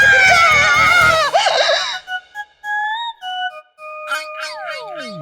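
A woman in an animated scene lets out a loud, strained scream lasting about two seconds, then the sound gives way to quieter whistling tones and sliding, descending cartoon effects.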